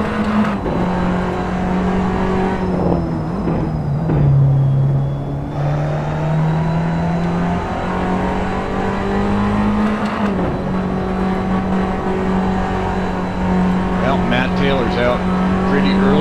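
Race cars in a sim racing video game lapping a circuit, a constant loud engine drone that dips and rises with gear changes and throttle lifts, heard under continuous commentator talk.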